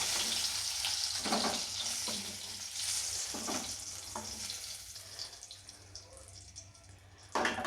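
Hot oil that has just fried eggs for an egg curry hisses softly while whole spices temper in it, a faint steady sizzle broken by a few scraping stirs and a louder clatter at the end.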